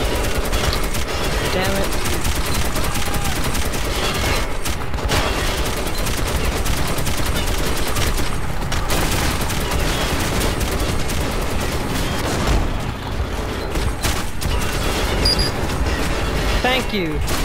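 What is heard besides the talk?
gunfire in the video game Metro 2033 Redux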